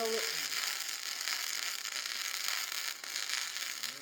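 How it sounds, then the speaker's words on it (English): Flux core welding bead run on stainless steel, a steady crackling, sizzling arc held close and loud without a break for the whole stretch. "Same deal, we're just gonna weld it."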